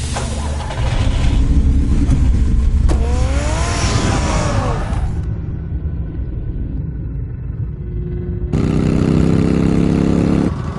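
A car engine in the Telltale Batman video game runs with a loud, steady rumble. Rising whines and a tire-squeal-like sweep come through midway, then the tone drops and surges again.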